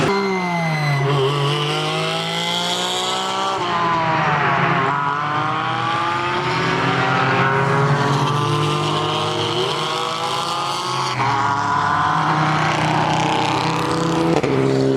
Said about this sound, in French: Donc là on enchaîne avec une course de GT4.